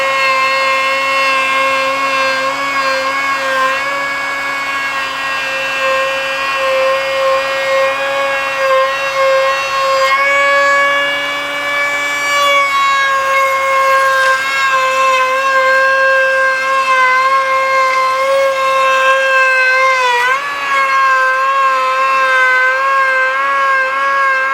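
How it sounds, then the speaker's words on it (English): A router shapes the edges of a Hardwood Reflections solid butcher block countertop, giving a loud, high, sustained whine whose pitch dips and shifts as the bit cuts along the wood. No talk is heard. "we're gonna router these edges"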